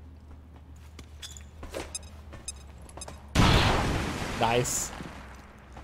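A frag grenade is thrown and explodes in the game XCOM 2, giving a sudden loud blast that rumbles and decays over a couple of seconds after quiet footsteps and game sounds, with a voice speaking briefly.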